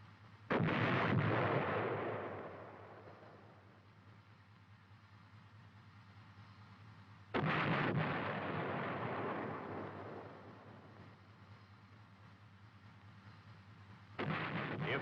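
A tank main gun firing HEAT rounds, three heavy booming shots spaced several seconds apart, each with a long rumbling decay, heard alone at a distance.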